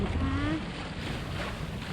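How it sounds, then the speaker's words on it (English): A sailboat under way into San Francisco Bay toward the Golden Gate Bridge, with steady wind buffeting the microphone and water rushing along the hull, plus a brief voice early on. "we are sailing. That's right, sailing into the San Francisco Bay."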